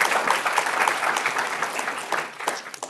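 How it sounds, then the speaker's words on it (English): An auditorium audience at a University of California, Santa Cruz talk applauds steadily, a dense wash of many hands clapping at full volume that fades slightly toward the end. "Everyone, please give a huge round of applause to Daniela on Valentine's Day."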